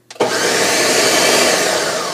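Blender pulsing a spinach, white bean and tofu spread: a loud, dense motor whir starts abruptly and runs steadily for about two seconds, with no talking.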